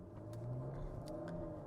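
A 2016 Chrysler 200S with a 300 hp AWD setup pulls away from a stop, its engine giving a steady low hum with mild revving heard from inside the cabin.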